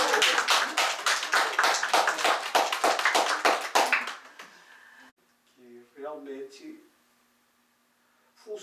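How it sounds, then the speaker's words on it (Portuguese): An audience claps in a burst of close, dense applause lasting several seconds, then it fades out and a voice begins speaking briefly. "Vou pedir um aplauso aqui."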